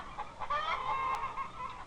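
Broiler chickens in a poultry house cluck and murmur together in a steady crowded chatter, moderately close, with no talk.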